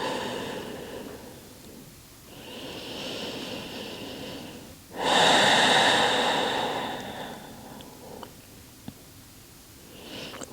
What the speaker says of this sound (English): Deep breath in and a deep breath out.